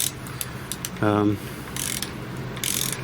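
A torque wrench tightening road bike chainring bolts, giving close mechanical ratchet clicks and a short buzzing ratchet run, with bursts of brighter metallic rasping and no talk.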